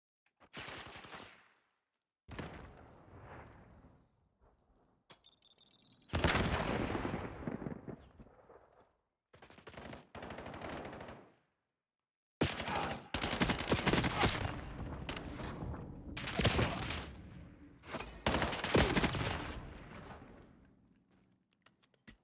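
Bursts of gunfire from a competitive shooter video game match come in bursts, sharp volleys and sustained automatic strings separated by short pauses, mostly loud and dense, with one stretch of near-continuous firing.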